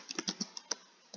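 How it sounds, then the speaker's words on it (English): Several quick keystrokes on a computer keyboard tap out a short command, crisp close clicks in an uneven burst followed by a brief pause and one last press. "if you have an error, just type chmod"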